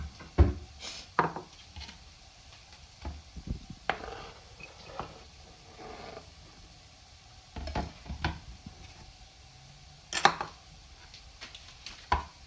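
A knife cuts a potato into chunks on a board: irregular clusters of soft knocks and taps, some sharper clacks, with quiet pauses between and no talking.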